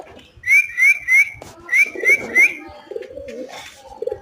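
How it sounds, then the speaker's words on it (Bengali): Pigeons coo in a run of repeated rising calls while eating wheat mixed with soil, close and fairly loud, then softer, lower murmuring and shuffling follow. "সবগুলো কবুতর আমার বাসায় সরে নেমে আসতেছে,"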